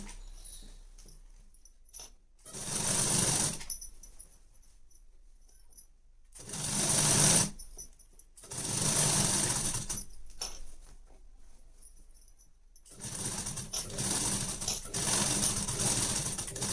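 A sewing machine runs in several separate bursts of rapid stitching, loud and close, while it stitches piping strip onto a blouse, with quiet pauses between runs.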